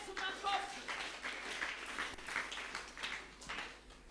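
An audience clapping for Jesus at a church youth seminar, a diffuse wash of applause from a crowd, fairly faint and mixed with voices throughout.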